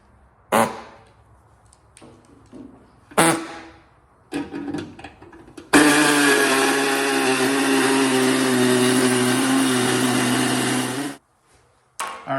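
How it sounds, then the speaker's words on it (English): A body saw cuts metal while the cooling system is stripped from an S10, a sustained harsh buzzing rasp of about five seconds following a few short clanks and handling knocks, then cutting off abruptly. "I think I'm going to use a body saw"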